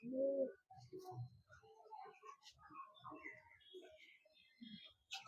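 Imported Teddy pigeons give low, throaty coos near at hand in a short burst, with softer calls and faint chirps following and a voice faintly audible.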